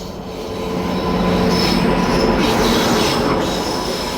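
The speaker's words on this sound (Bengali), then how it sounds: "সামনে থেকে কোনো একটা ট্রেন আসছে" The oncoming Howrah Bhopal Weekly Express approaches close by a halted train at a crossing, its wheels roaring and squealing in a loud, swelling rush with no voices.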